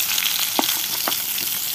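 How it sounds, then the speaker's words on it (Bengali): Potatoes fry in an old wok with a loud, steady hiss of hot oil, broken by a couple of sharp crackles and spits, close and with no voices. "এই যে আলু ভাজতেছি"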